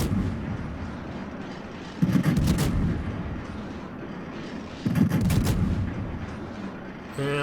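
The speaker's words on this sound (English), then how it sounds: "These are salvo fires." The French tier-10 cruiser Colbert fires its guns in World of Warships: two loud booming salvos a few seconds apart, each with a rumbling decay, under a steady low background.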